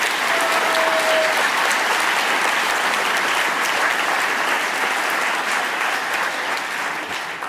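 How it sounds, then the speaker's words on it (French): A large crowd applauds loudly and steadily, the dense clapping sustained throughout without a break. "Un tonnerre d'applaudissements pour Pélops, s'il vous plaît."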